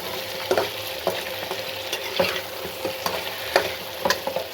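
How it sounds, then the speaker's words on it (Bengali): Potatoes frying with onions in a pan: a close, continuous sizzle with regular spatula scrapes and taps marking an uneven stirring rhythm, and no voices. "পেঁয়াজের সাথে আলুটা ভেজে নিচ্ছি"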